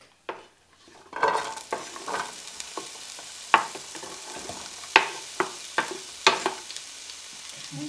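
Chopped peppers and onion sizzle in hot oil in a pan with a steady close hiss. A utensil stirring them makes a series of sharp, evenly spaced clacks.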